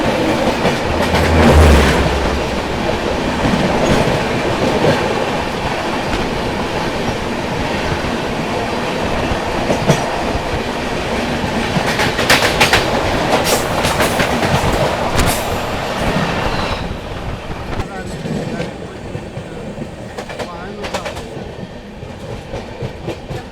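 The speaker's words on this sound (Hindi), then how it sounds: "सामने से आती है बनारस नई दिल्ली सुपर फास्ट एक्सप्रेस।" The Banaras New Delhi Superfast Express passes close by with a steady, loud rumble and clickety-clack of wheels over rail joints, then fades slightly toward the end.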